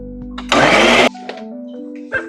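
A kitchen blender whirs loudly for about half a second while blending a kombucha pellicle for gummies, a single short burst that cuts off abruptly against a quiet room.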